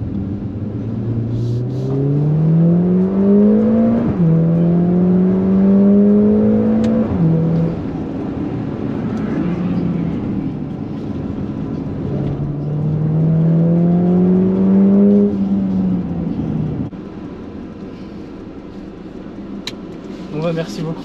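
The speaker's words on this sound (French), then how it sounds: "Petite arrivée de la Lamborghini Huracan Austin, parce qu'elle est belle." A Lamborghini Huracan sports car arrives with a loud engine note that climbs in pitch twice in rising sweeps, revving near and strong, then settles lower; people talk faintly underneath.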